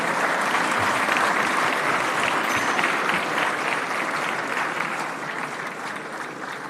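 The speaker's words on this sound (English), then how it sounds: "A big round of applause, ladies and gentlemen." Applause from the crowd at a startup festival in India, broad, sustained clapping of many hands that stays loud and full throughout, easing slightly toward the end.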